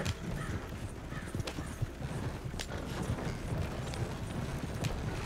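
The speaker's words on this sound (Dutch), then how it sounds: "Nog een paardenkar." Hooves of a horse-drawn cart clip-clop steadily on a road in Red Dead Redemption 2, a dense, continuous patter of hoofbeats with rumbling wheels and ambient outdoor noise, no voices.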